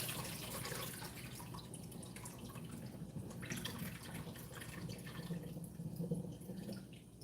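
Water drains from strained onions in a kitchen sink, a continuous close trickle and splash with soft drips, steady at moderate loudness.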